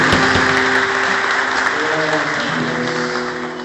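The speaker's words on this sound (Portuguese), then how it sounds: "Você pode aplaudir o Senhor Jesus." Applause fills a church service for several seconds, steady and dense at first and slowly tapering toward the end, with a sustained tonal hum, likely music or an organ, running underneath.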